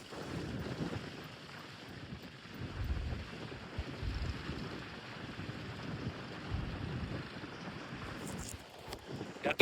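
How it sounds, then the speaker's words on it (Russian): Wind buffets the microphone in rough, rumbling gusts that rise and fall over a low, continuous outdoor roar. "Я думаю, в любом случае вы слышите порывы ветра."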